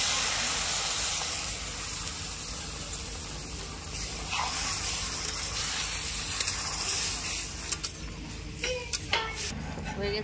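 Hot dal in a pan hisses and steams steadily as water goes in, with a constant bubbling sizzle and a few brief clinks of a utensil against the pan toward the end.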